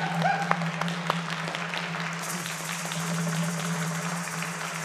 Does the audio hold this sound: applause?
yes